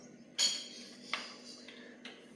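A spoon mixes chutney with lemon juice in a bowl, giving a sharp metallic clink followed by lighter scraping taps over a quiet background.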